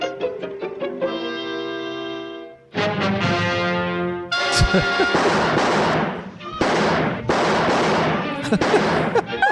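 Gunshots on the soundtrack of a silent-era Charlie Chaplin comedy during a breakout chase, several sharp bangs mixed into loud, busy accompanying music.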